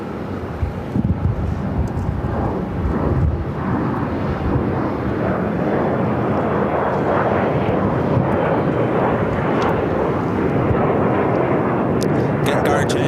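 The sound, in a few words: American Airlines A320 jet taking off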